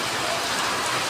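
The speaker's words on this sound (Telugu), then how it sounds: "ఇంకా ఎక్కువైంది వర్షం అయితే, ఇప్పుడు ఫుల్గా పడుతుంది చూడండి." Heavy rain pours steadily in Sircilla, a dense, unbroken hiss of downpour on surfaces close by, loud and constant throughout with no talking.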